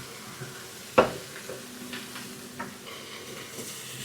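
Soy, oyster and chili bean sauces are stirred together in a hot pan, giving a faint continuous sizzle with one sharp utensil clink and soft scraping taps.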